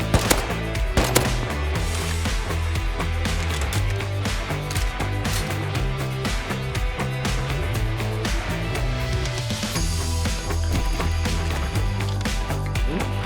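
Gunfire rattles in the survival game Rust, a busy run of rapid shots and bursts layered over game ambience for the whole stretch, loud and continuous.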